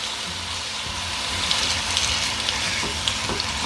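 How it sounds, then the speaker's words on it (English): A steak sears in olive oil in a hot pan, giving a steady, close, dense sizzle that swells slightly partway through, with faint crackles and pops, and no talk. "You know that when you hear that sear. Put it on there, press that meat down"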